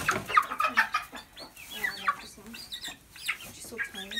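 Chickens in a small farm flock cluck and squawk close by in quick, uneven bursts, with soft, low talk in the background.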